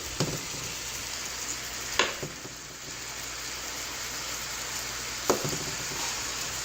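Ground beef, 93% lean, sizzles and fries steadily in a pan, a dense close crackle with a few sharp scrapes of stirring at intervals and no voices.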